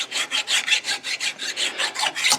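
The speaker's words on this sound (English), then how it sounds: "You can use a gasket scraper if you want, but this thing is carbide and it's meant to scrape the rust and steel." A carbide scraper rasps back and forth over rusty steel on a 1999–2013 Chevy Silverado front wheel hub, about a dozen rhythmic, gritty, close strokes at a steady pace, with no talk.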